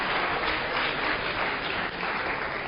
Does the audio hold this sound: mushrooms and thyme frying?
no